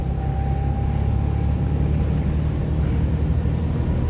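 A Tata Nano car drives along a rainy road, its engine a steady, loud, close rumble that holds without a break.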